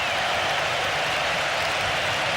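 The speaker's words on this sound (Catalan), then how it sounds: "el públic dret aplaudint" Stadium crowd at an FC Barcelona versus Real Madrid league derby standing to applaud after the final whistle, a steady broadband wash of clapping and crowd noise filling the stands at moderate distance.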